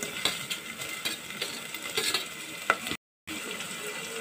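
Chopped tomatoes frying with ginger-garlic paste in a pan for a gongura curry, giving a steady close sizzle with scraping stir strokes and a brief gap near the end.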